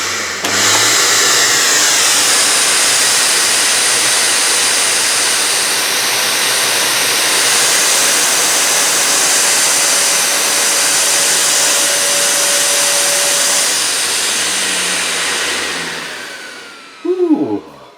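A Rowenta Tonixo cylinder vacuum cleaner runs loud and steady as a broad, continuous roar with a faint whine, then winds down near the end, followed by a brief clatter.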